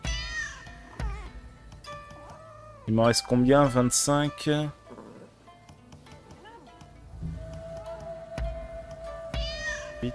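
Cats meowing in the video game Rise of the Ronin: a burst of several loud, overlapping meows in the middle and another near the end, with someone talking in French between them.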